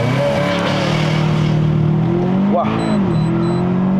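Volkswagen Arteon R-Line 4Motion launching hard with four people aboard, its engine droning loudly and rising in pitch under acceleration before a gearshift dip, then climbing again, with an occupant exclaiming over it.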